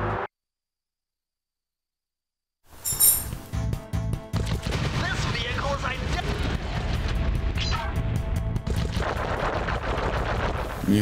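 Rapid gunfire in the Sly Cooper and the Thievius Raccoonus video game, dense bursts of repeated shots after a brief silence, running continuously with game effects and a voice talking over it.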